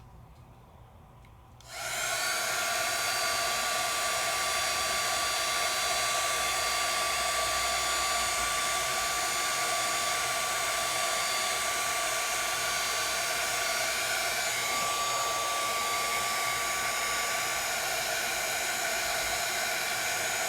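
A craft heat tool switches on after a quiet start and blows a loud, steady whooshing roar on low heat to shrink shrink plastic, holding constant to the end.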